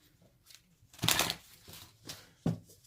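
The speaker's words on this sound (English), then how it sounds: "Let me shuffle these." Oracle cards being shuffled by hand during a tarot-style reading, giving a few soft riffling bursts and light flicks, close and quiet, with a short pause between handfuls.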